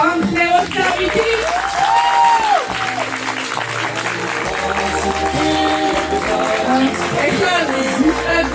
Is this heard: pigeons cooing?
no